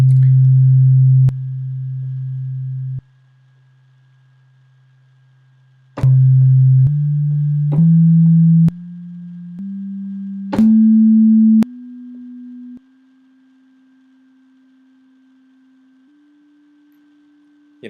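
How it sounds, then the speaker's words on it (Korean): Voltage Modular synthesizer producing a clean sine-like tone in discrete stepped notes, its loudness jumping up and down from note to note with key velocity, each change marked by a small click, played alone. "건반을 누르는 세기에 따라서 요 소리가 커졌다 작아졌다 이렇게 할 수 있겠죠"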